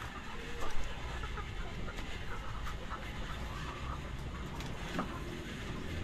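Young Dekalb Brown rooster, a newly bought cockerel from Natividad, Pangasinan, clucking faintly at a distance over steady outdoor background noise, with a few short soft calls and no talking.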